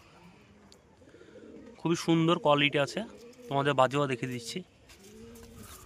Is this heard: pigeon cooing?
yes